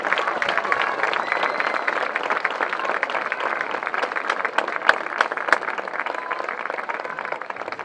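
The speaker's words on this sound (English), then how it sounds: "this is one more round of applause for all the players who turned out today" A crowd applauds the players after an all-star game, with dense, steady clapping that fills all eight seconds at an even level. A few sharper claps stand out, and faint voices sit beneath the applause.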